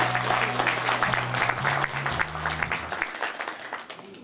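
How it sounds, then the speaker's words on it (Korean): A crowd claps steadily at a 60th birthday banquet, dense and fairly loud, with a low hum underneath, the applause thinning out toward the end. "건강의 박수를 부탁드리겠습니다."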